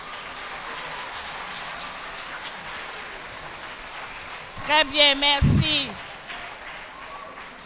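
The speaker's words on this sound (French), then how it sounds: "Applaudissez-vous." Parents at a school spiritual celebration applaud themselves in a steady, crackling patter, joined midway by a brief, bright whistle-like tone and some speech.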